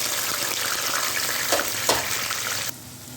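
Onions frying in ghee in a home kitchen curry pan, with a steady, loud, close sizzle and a couple of stirring scrapes before the sound drops away abruptly.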